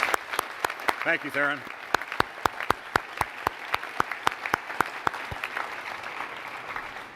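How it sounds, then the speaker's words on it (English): An audience at an Astronaut Hall of Fame induction ceremony claps in steady, distinct, sparse claps that carry through the whole stretch, with someone briefly speaking early on over the clapping. "I'd like us all to give them a round of applause"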